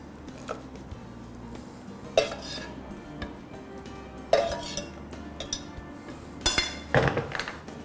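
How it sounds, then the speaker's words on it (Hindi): Pasta going into a pan of white bechamel sauce brings scattered clinks and clatters of utensils on metal, a few sharper knocks among quieter stirring sounds, close by with no talking. "We're just gonna pour our pasta directly into the sauce"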